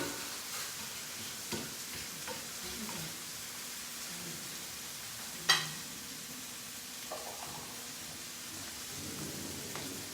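Garlic sizzles softly in a pan as it browns for pasta, a steady low frying hiss with one sharp clink partway through and a few faint scrapes.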